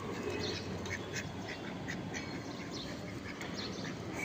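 A duck quacks repeatedly while being fed outdoors, its nasal calls coming in quick bursts over a steady background hiss.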